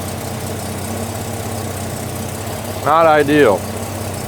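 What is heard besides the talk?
Turbo Buick Regal engine idling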